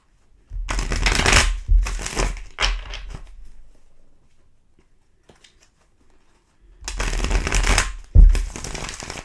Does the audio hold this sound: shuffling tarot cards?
yes